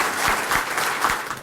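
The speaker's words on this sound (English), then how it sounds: "So give them a big round of applause." A brief burst of audience clapping at a baseball old-timers' annual awards brunch, many hands patting at once in a short, moderately loud, even stretch.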